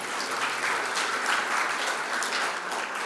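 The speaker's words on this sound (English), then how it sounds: "Give you a hand clap of praise." A congregation at the First Unitarian Universalist Church of Richmond, Virginia gives a hand clap of praise: dense, steady applause from many hands, sustained at an even level for about three seconds.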